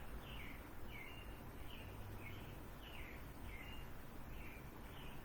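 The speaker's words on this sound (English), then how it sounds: "my windows are open and you might hear some birds outside" Birds chirp softly outside through open windows in a quiet room during a chair yoga session, a short call repeating roughly every half second, faint and steady over a low background hiss.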